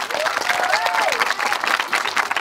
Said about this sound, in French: C'est pour le club, on vous applaudit